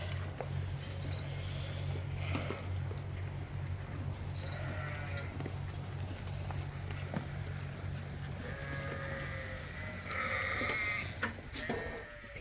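Sheep on a farm bleat repeatedly while being fed grain in the morning, with several calls of varying pitch rising over a steady low mechanical hum, some loud and near, others fainter.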